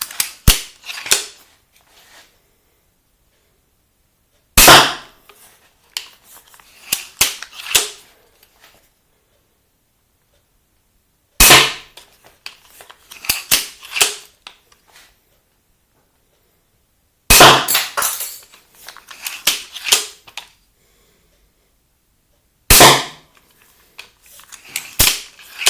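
Steambow Alligator 8-shot crossbow pistol fired at a target: five loud, sharp snaps spaced several seconds apart, each followed by clattering and mechanical cocking noises of the lever, with silence between shots.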